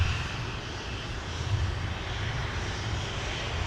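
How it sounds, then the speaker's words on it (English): An airliner rolls out after landing at Minneapolis–Saint Paul airport, a steady broad engine and airflow roar holding at a constant level throughout, with no voices. "Little aerodynamic braking demonstration."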